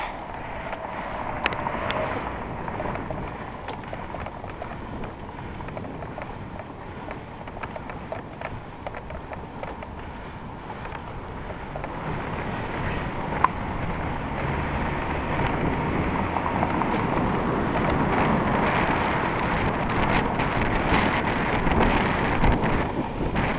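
A light southeasterly wind blows steadily along Queen Street, a soft constant rush that gradually builds louder toward the end, with faint city background and no speech.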